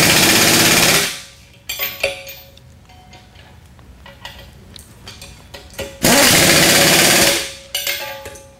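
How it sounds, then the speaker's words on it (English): An impact gun tightens bolts on a CS-1 sifter spindle in two loud, sustained buzzing rattles about a second long each. Quieter clanks and ticks of the socket and metal parts fill the pause between them. "take a socket, put it on the bottom of the holes, and tighten them up with an impact gun"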